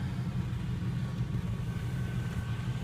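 A 1990 Cadillac Brougham's carbureted Oldsmobile 307 V8, with 90,774 miles, idles steadily after starting, a low, even rumble heard close up with no voices.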